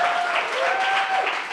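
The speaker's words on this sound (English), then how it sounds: "Let's give a round of applause to Omar." Brief applause rises from an indoor audience at a coding bootcamp demo night, a dense patter of clapping with a faint voice mixed in.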